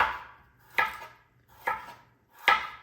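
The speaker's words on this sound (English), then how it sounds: "I'm gonna go ahead and just cut up my carrots and just do a rough chop with them" A knife rough-chops carrots on a cutting board: four crisp, separate thwacks at an unhurried, even pace, close and clear with nothing else around.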